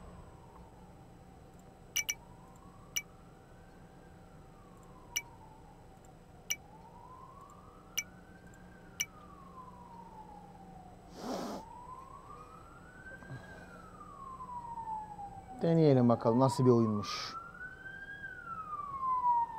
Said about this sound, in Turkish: Evet, ambulans falan geçiyor.